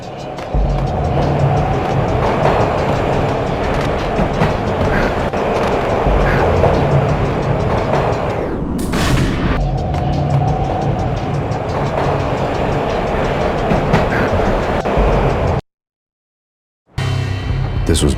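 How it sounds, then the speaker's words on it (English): Steady, loud rumble and clatter of a moving train in the video game Max Payne, with a brief break in the noise near the end before it resumes. "This was my second train ride of the night."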